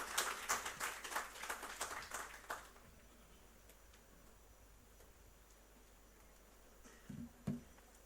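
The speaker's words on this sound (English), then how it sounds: "A huge round of applause for Shri Amit Tharwa sir." An audience at a government industry event on chemicals and petrochemicals in Gujarat claps in a brisk burst of applause that fades after a few seconds, leaving a quiet room with a couple of faint knocks near the end.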